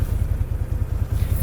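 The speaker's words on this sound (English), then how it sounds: "we just borrowed my other brother-in-law's UTV. It's just like a 5-seater" A borrowed five-seater UTV engine runs steadily while driving, a low, rumbling mid-pitched drone with a rhythmic pulsing throb, close and continuous throughout.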